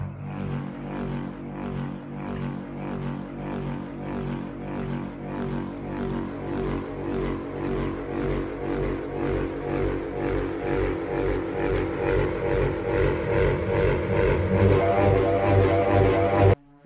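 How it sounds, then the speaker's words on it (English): A sampled wind wand gives a steady whooshing drone that pulses rhythmically and slowly swells louder over about sixteen seconds before cutting off abruptly, alone with no voices. "let me show you the wind wand that I've"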